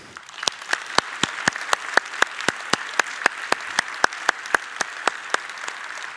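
Conference audience clapping to welcome Fred Brooks onstage at an ICSE 2018 plenary session, a steady wash of hand claps with sharp individual claps popping through, sustained throughout without speech.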